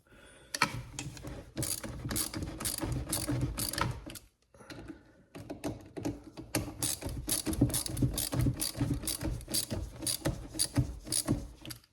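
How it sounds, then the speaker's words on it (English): Mechanical ratcheting and clicking from screws being tightened on a Poulan Pro PPB3416 leaf blower, a busy, fairly loud stream of small metallic clicks with a brief pause midway. "Don't want to over tighten anything, especially when you're dealing with screws"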